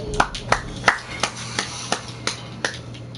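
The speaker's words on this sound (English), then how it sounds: "Give you guys a round of applause." A single person claps slowly, about nine separate sharp hand claps at an even pace over roughly three seconds, close and fairly light, with no crowd.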